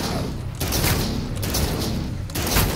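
Shotgun fire in Call of Duty: Infinite Warfare Zombies, with a few loud blasts mixed into dense, continuous game action and noise.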